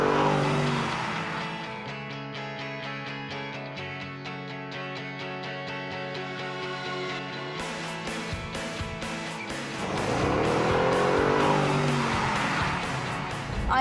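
Cars race with engines revving and tires squealing, the roar surging loud near the start and again toward the end, with a sustained tonal sound filling the middle.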